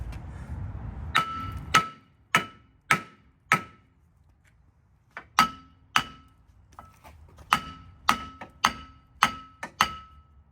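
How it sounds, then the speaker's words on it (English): Heavy metallic blows from a 32-ounce hammer knocking off a car's old front brake rotor strike one after another, some in quick pairs, sharp and loud with brief pauses, close by. "so here I got a 32 ounce snap-on hammer."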